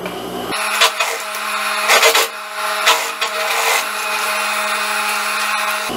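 A sewing machine runs steadily while stitching a jacket pocket flap, a continuous close mechanical whir with a few brief bumps and pauses in pace, and no one talking.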